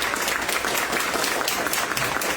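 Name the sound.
audience applause for forum candidates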